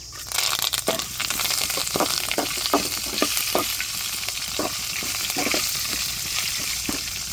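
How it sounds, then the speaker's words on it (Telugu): Curry leaves and grated coconut fry in a pan, a loud close sizzle with repeated scraping and stirring strokes from a spatula, continuous throughout with no talk. "అర చిప్ప తురుముకున్న కొబ్బరి దీన్ని బాగా వేయించుకోవాలి"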